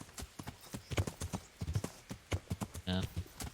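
Horse hooves in Kingdom Come: Deliverance, clip-clopping close by in an uneven, stumbling rhythm, with a short snort or whinny near the end and someone speaking over part of it.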